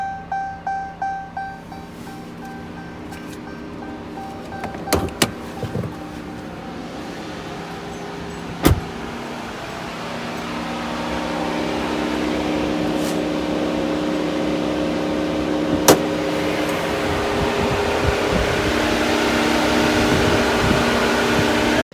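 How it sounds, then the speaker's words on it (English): A car with a 5.7L Hemi engine sits switched off while its electric cooling fans spin up and run, a steady whir that slowly builds and holds, broken by a few sharp clicks and early button taps. "you're gonna hit the right arrow and the cancel, and the fan will go on"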